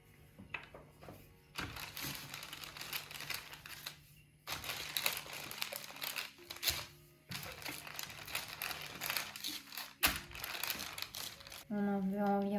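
Parchment paper crinkles and crackles in bursts as pastry dough for chocolate, caramel and pistachio tartlets is rolled out between two sheets, the crisp rustling stopping and starting, with a voice talking during parts of it.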